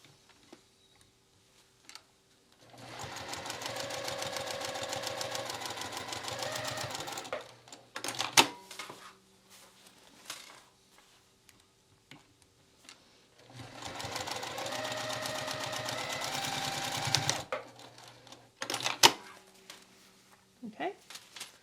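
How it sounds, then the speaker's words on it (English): A sewing machine runs a base stitch down the sides of a wristlet bag's gusset in two long bursts of steady, rapid stitching. Quiet pauses and handling clicks fall between the runs. "you're going to just base stitch down each side here to close this in place"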